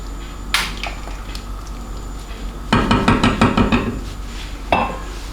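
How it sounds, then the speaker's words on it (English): A spoon scrapes and clanks against a cooking pot while rice for Jamaican rice and peas is stirred, sharp metallic knocks in scattered bursts and a rapid cluster of clinks, close and fairly loud. "just stir that around"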